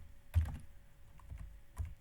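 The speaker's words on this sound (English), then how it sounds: "And now you type private, and you type the word public" Keys clatter on a computer keyboard in short bursts, a few quick clustered taps near the start, a couple more scattered later, quiet and close with no voices.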